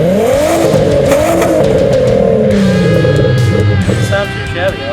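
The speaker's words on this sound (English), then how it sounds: "it does have a Magnaflo and I like the way it sounds." A VW MK4 GTI with a 2.8L VR6 engine and Magnaflo exhaust revs up hard nearby, its raspy note climbing then falling back, followed by a rougher idle with clattering sounds.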